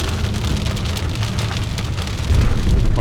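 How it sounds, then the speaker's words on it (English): Heavy rain pours steadily over woodland hills during a bowhunt at Fort McCoy, Wisconsin, a dense continuous hiss of drops growing slightly louder near the end, with no voices. "in this rain. And it's coming down pretty good now"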